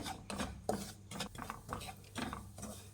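Wheat flour is stirred and fried in butter in a pan over a medium flame for atta barfi, with soft, rhythmic scraping strokes repeating at a steady pace.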